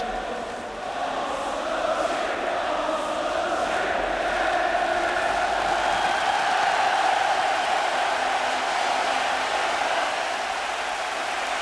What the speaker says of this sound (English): the vast crowd inside the stadium welcome the teams